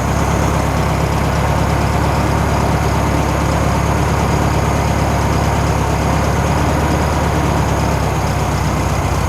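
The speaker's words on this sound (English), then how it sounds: "It's idling really good." A 1964 VW Beetle's 1600cc dual-port engine idles steadily and loud up close, a smooth constant drone with no voices over it.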